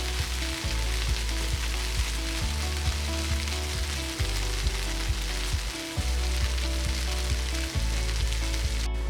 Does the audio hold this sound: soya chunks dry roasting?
yes